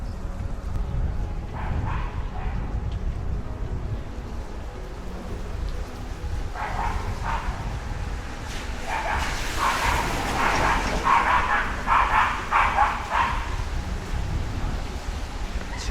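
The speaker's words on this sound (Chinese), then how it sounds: "前面有两只狗子， 相互不服气。" Two dogs barking back and forth at each other somewhere ahead outdoors after rain, the barks moderately distant over a constant low rumble of wind and background noise, growing busier toward the end.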